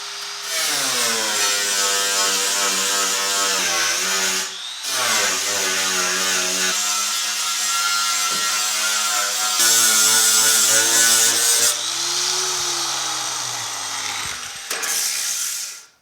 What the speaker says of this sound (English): let's finish this thing off with the flapper wheel